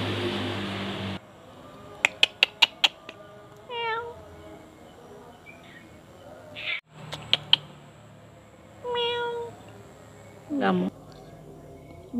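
A cat is heard at night in a house yard, with a few short meows amid rhythmic clicking sounds and a person calling and talking softly nearby.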